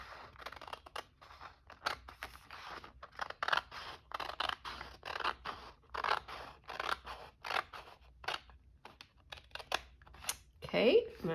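Scissors trimming folded fabric, a run of quick crisp snips in uneven clusters close by, with a person talking intermittently over the cutting.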